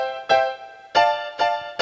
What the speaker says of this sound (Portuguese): Esse aqui é o piano do meu teclado.